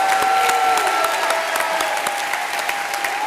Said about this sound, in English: Let's give them one well-deserved round of applause.